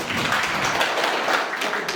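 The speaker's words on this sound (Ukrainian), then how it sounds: "Аплодисменти." Audience at a Ukrainian public organisation meeting bursting into applause, a dense, loud, continuous burst of clapping from many hands, close and steady for the whole moment.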